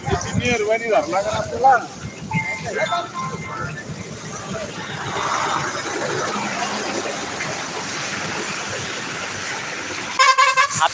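Road traffic starting up again on a flooded bridge route near Jejuri, with car horns tooting among engine noise and voices nearby; the busy mix runs throughout, with a clearer burst of honking near the end.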